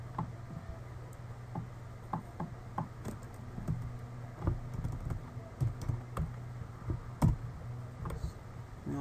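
Light, irregular clicks and taps of a computer keyboard being typed on, close and fairly quiet, with a low steady hum underneath and no talking.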